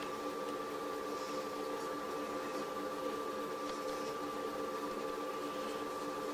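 A Hakko desoldering station's vacuum pump runs with a faint, steady mechanical hum and whine, constant and unchanging throughout.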